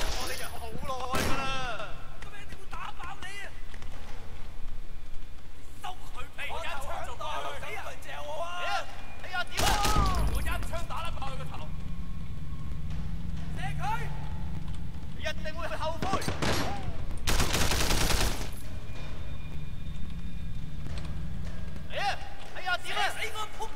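Sharp, loud bursts of gunfire in the video game Sleeping Dogs, a few heavy blasts spread through the stretch, mixed with game sounds and someone talking over them.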